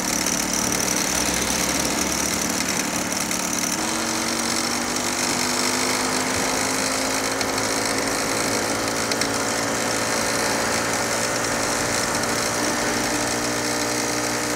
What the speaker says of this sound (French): le moteur fait un meilleur bruit